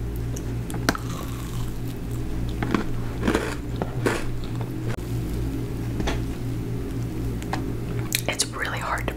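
Bites into a crunchy Crumbl cookie topped with cereal, heard close up as a few crisp crunches and soft chewing, with quiet whispered talk in between over a steady low hum.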